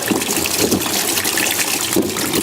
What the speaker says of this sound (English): next we're going to dump the acid that's in this battery into this plastic container